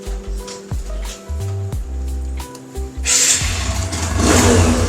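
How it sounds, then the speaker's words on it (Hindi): A TVS Apache RTR 160 2V motorcycle engine, a 2025 model, idles and then revs in several short throttle blips before building into a louder, sustained rev. The sound is close and fairly loud. "आप गाड़िया को हम स्टार्ट करके दिखाते हैं, इसका साउंड क्वालिटी कैसा है"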